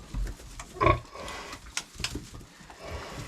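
Newly farrowed piglets from a sow's first litter make a few short, nearby squeals and grunts, with one louder burst among quieter shuffling.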